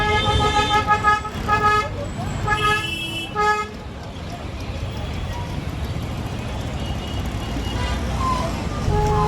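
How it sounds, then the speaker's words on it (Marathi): Busy city road traffic in Dombivli heard from inside a car, with several short car horn toots early on over a steady rumble of engines and passing vehicles, continuing as a dense traffic wash. "ही बघू शकता तुम्ही ट्रॅफिक."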